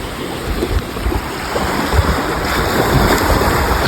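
Ocean surf washing onto a sandy beach, a steady broadband roar of breaking waves with wind buffeting the microphone, close and fairly loud throughout with no talking.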